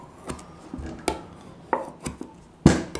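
The back of a knife is run around a canning jar lid while preparing home-canned chicken, giving a series of sharp, close scraping taps and clicks at irregular intervals.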